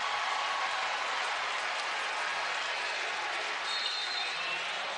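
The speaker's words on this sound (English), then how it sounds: "as the crowd goes crazy, everybody's pulse quickens" A crowd at a Duke women's basketball game against FSU cheers and applauds loudly, a dense, unbroken roar that holds at an even level throughout with no clear speech over it.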